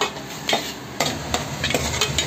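Curry leaves sautéing in a hot pan for a simple vegetarian dish, a close, steady sizzle broken by a few sharp stirring scrapes over a short stretch, with no talking.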